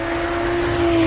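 A BMW M235i with the N55 engine sends out a steady, close exhaust drone with a strong, even tone and a slight swell in loudness near the end. No voices are heard.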